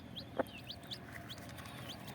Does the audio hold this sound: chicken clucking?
yes